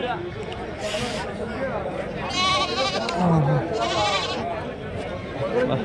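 Goats bleat repeatedly at a busy sheep and goat market, several wavering cries rising over a steady murmur of crowd chatter and nearby talk.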